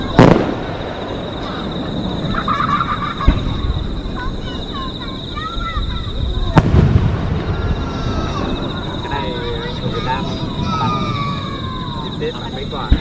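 Fireworks at the Tōjō summer festival in Shōbara, Hiroshima, Japan: booms and crackling bursts spread across the stretch, with a steady high whine and people talking throughout.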